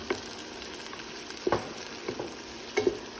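Onion and small-cut garlic frying in a pot for Saudi meat kabsa: a low, steady sizzle with a few soft stirring knocks scattered through, close by and without speech.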